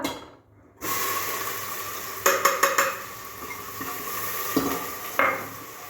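A tadka with a little fennel sizzling in a pan in a home kitchen, with clattering utensil knocks and scrapes over a continuous hiss.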